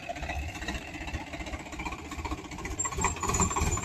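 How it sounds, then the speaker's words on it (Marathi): A large Swaraj tractor's engine runs in a field during chickpea sowing, a steady low chugging drone with a rough, knocking pulse that grows slightly louder toward the end, heard alone. "मोठं स्वराजचं ट्रॅक्टर आहे"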